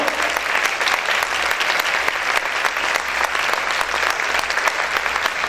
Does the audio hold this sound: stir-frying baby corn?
no